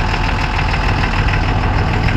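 A clean old Dodge pickup, resto-modded with a Cummins diesel, sits idling close by, its deep continuous rumble steady and unbroken, with a slight clatter and no one talking.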